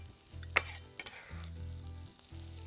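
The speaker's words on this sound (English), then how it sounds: "So you can see already that garlic and shallot is roasting quickly, well caramelized, which is fine." Garlic and shallot sizzle and caramelize in a hot pan while a chicken roast is prepared, a steady close crackle with a sharp clatter near the start and a low hum underneath.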